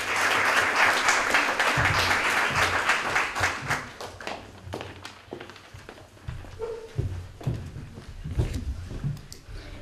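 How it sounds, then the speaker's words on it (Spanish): An audience at a Book Day event in San Roque applauds, a dense wash of clapping that gradually thins into scattered claps, footsteps and light shuffling, heard close and without speech. "Un aplauso también para ellos."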